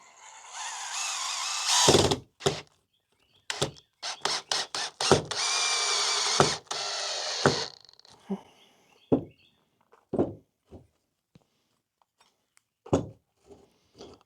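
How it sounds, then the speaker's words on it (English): A power drill whirs in several short and longer bursts as a screw is driven into a wooden carpenter bee trap block, followed by scattered clicks and handling clatter. "And you screw it in."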